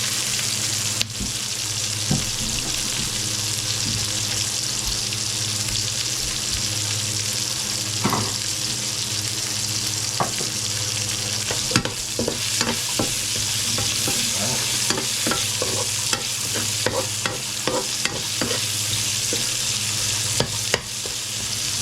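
Large-cut onions sizzle steadily in a hot pan while being stirred, a continuous loud frying hiss broken by frequent scraping clicks of the spatula, with no talking.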